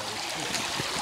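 River water rushing over rocks in a mountain stream during a crossing, a steady broadband wash of flowing water filling the whole moment, close and continuous with no talk.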